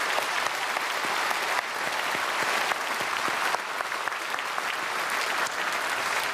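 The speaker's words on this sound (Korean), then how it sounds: "한꺼번에 모아서 우리 박수로 축복하겠습니다." Congregation clapping together in a church during an Easter service, a steady wash of applause with a few sharper individual claps standing out, fairly distant and sustained.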